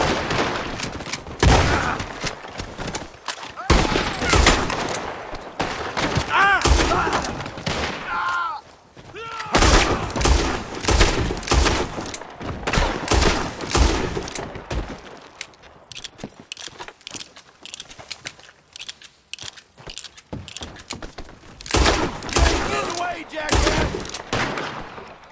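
Repeated gunfire bursts from a video game played with the Bandit Hideouts mod, loud rapid volleys in several clusters with pauses between, some speech-like game audio mixed in.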